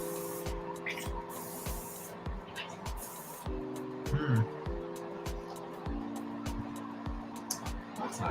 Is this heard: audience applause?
no